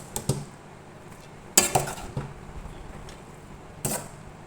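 Rice being tipped into a pot while layering chicken biryani, a few sharp metallic clinks and scrapes of a spoon against the pot with soft spilling in between, close and fairly quiet.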